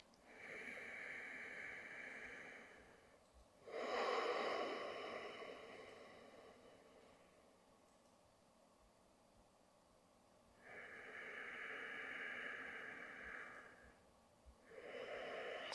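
Slow, deep breaths during a Pilates twist exercise, long airy inhales and exhales alternating with quiet pauses, close but faint, with no talk.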